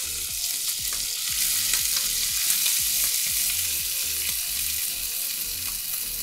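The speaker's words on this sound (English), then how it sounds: "I think scrape the bottom because that seems to be a lot of the seasoning pack that kind of fell to the bottom." Ramen broth with a 7-Eleven seasoning pack stirred and scraped across the bottom of a pot, a steady loud sizzle under rhythmic scraping strokes from the spoon, close and continuous with no talking.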